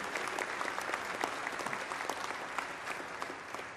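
Sustained applause from a large crowd at a submarine keel laying ceremony, dense and steady clapping throughout.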